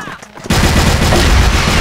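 Gunfire in a first-person shooter game, a loud dense burst of rapid shots that starts abruptly after a brief quieter moment and continues without a break, close and harsh.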